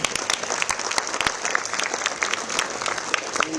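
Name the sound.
applause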